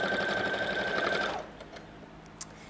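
A sewing machine stitches steadily around fabric corners, a loud, close, fast mechanical whir that stops abruptly partway through, leaving quiet room tone and one small click.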